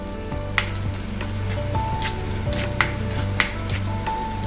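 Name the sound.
small onions sizzling in oil in a pan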